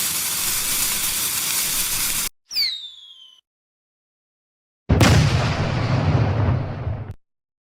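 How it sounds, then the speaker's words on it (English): A large Fourth of July firework goes off outdoors near a house: a loud hissing launch roar, a short whistling crackle, silence, then a second long, loud, broadband blast-like rush that fades out. "That was one big firework that I have ever saw."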